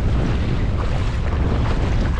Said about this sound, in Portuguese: a chuva tá vindo com muito vento. Tá ventando muito.